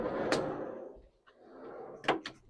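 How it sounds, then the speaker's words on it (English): A van's door is opened, with a rattling slide and clunk at the start, then a couple of sharp latch knocks near the end, nearby and fairly loud. "Just open the van"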